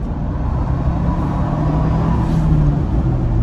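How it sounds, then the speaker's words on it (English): A modified 2022 Ford Bronco Big Bend pulls away from a standstill under throttle, its engine giving a steady, loud low rumble that holds without a pause. "one more time, just off the line on the gas, boost"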